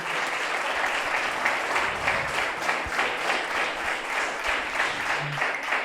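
A church congregation applauding at a pastor's service: sustained crowd clapping with a thick, even texture that holds steady for several seconds, with a few faint low background thuds underneath.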